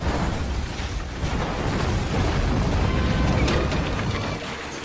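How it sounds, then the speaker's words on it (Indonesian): A gas cylinder explodes and blows up a hut in a film scene, a dense roaring blast that rumbles loud and unbroken for several seconds with crackling debris, fading slightly at the end. "Roma menembak tabung gas yang membuat pondok itu meledak"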